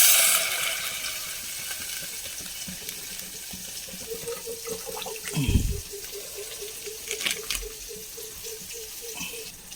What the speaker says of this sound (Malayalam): നമുക്ക് അതിലേക്ക് ഒരു പാക്കറ്റ് പാൽ ഒഴിച്ച് കൊടുക്കാം.